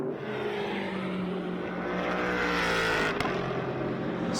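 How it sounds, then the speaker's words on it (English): GT race cars at Las Vegas Motor Speedway in the Blancpain GT World Challenge America: loud, continuous engine roar from cars coming through a chicane and speeding up, pitch climbing as they accelerate, with a sharp crack near the end. "There's Baptista coming through the chicane. Soucek gets up to speed."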